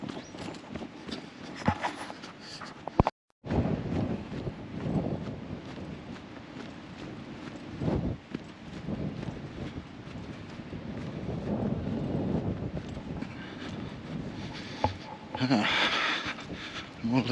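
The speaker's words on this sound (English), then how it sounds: "The wind is bitey. It's coming from behind me" Wind buffeting a microphone on a long outdoor walk, a continuous low rumbling gusty roar with occasional crunchy footstep-like knocks and a brief dropout, a voice heard faintly beneath it.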